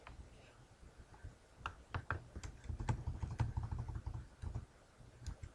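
Rapid keystrokes on a computer keyboard while writing a beginner Java Hello World program, clicking in irregular, close, fairly soft bursts with brief pauses and no talking.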